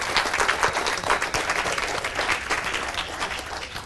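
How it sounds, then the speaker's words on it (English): Sustained applause from an audience, a dense crowd of hands clapping steadily and fairly loud throughout, with no talking. "give Elder Oris and Emmanuel a round of applause"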